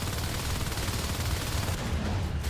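Dense sustained fire from two light machine guns in a competitive video game match, a continuous loud rattling roar with no pauses.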